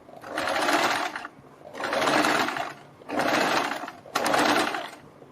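A sewing machine stitches a boat neck blouse, sewing along the neckline beside the buckram, in four steady close bursts of whirring with short pauses between them.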